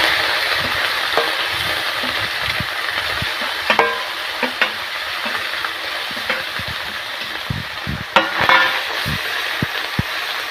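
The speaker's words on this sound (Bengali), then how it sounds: "বাকি সব মাছগুলো ভেজে নিচ্ছি।" Small fish sizzle in hot oil in a pan, a steady close hiss with scattered pops and a few sharp clinks of a utensil against the pan, with no voices.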